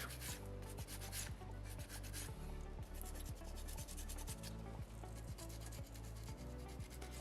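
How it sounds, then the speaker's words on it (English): Sandpaper number 2 rubs over a small soapstone orca carving, smoothing the tail fluke in steady, close back-and-forth strokes with a gritty, regular rhythm and no talking. "you can kind of finish it up with sandpaper number 2 as you're smoothing it"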